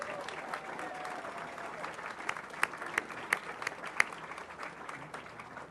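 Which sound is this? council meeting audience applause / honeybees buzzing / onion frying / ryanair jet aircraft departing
council meeting audience applause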